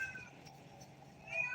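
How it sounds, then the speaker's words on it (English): A hungry cat meows at another cat's full bowl of food, giving a couple of faint, short cries against a quiet room. "So he's just meowing because he's seeing, her there with a full bowl of food"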